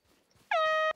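An air horn app sounding in the hunting game Hunter Call of the Wild, a single loud, harsh sustained blast lasting under half a second after near silence.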